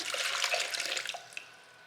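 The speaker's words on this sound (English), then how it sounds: "So first I'm gonna put in the 1 cup of water" A cup of water poured into a mixing bowl while making a yellow cake mix batter, a short bright splashing pour that tapers off after about a second.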